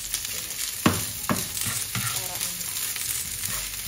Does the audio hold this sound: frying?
yes